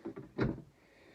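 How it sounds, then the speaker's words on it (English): A pantry drawer sliding open in a Peugeot Boxer L2H2 camper van, a few soft rattling knocks followed by a single louder wooden thud up close, then quiet. "We have a pantry drawer"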